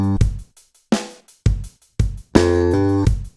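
Slap bass riff in a stomp groove played alone: a handful of punchy, percussive slapped notes, one longer ringing note, then a hammer-on up to a short, clipped octave G.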